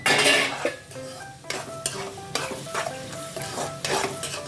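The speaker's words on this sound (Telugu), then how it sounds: "ఆనియన్స్ ఇప్పుడు కలుపుకుందాం" Onions fry in a pan for an Andhra-style prawn fry while a spoon stirs them, with repeated scraping clatters of utensil on metal over a lively crackling sizzle, close and clear, with no voices.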